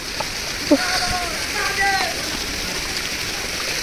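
Mountain waterfall on the Kedarnath trek, with water rushing in a steady broadband hiss throughout and voices talking faintly over it.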